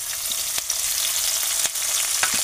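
Sliced onion and tomato with garlic frying in a pan for vegetable khichadi, a steady loud sizzle with a few sharp crackles and stirring clicks, close up and without talk.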